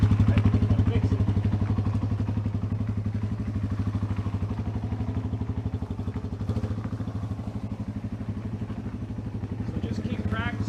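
Yamaha XT225 trail motorcycle ridden off-road on light throttle, a steady low single-cylinder thrum running close and continuous throughout with slight dips, plus occasional clatter from the trail.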